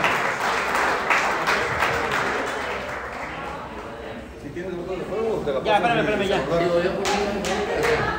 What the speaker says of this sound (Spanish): Le damos el aplauso a Jimmy